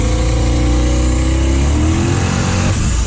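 A 900 whp 1998 Pontiac Firebird Trans Am pulls hard in second gear, its engine roaring loud and close with rising pitch before an abrupt drop near the end, likely the shift toward third.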